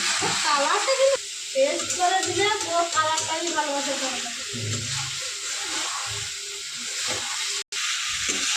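Potatoes and eggs sautéed with spices in a pan, a steady close sizzle with intermittent stirring scrapes, with a brief murmur of background voice and music-like tonal sounds partway through.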